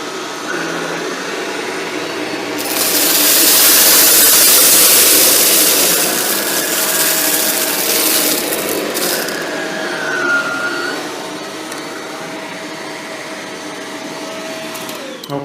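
A Shark Rotator Lift Away NV682 vacuum cleans tight along the baseboards, running as a loud, continuous close whine that swells in the middle and carries faint rattles of debris.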